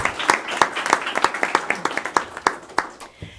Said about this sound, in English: another round of applause for Sarah Pruse